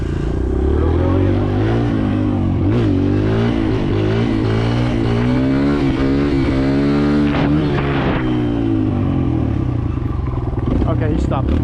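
Kawasaki KLX 140L dirt bike engine revs hard and climbs in pitch through a wheelie, then eases off and rises again, loud and close, with wind buffeting throughout.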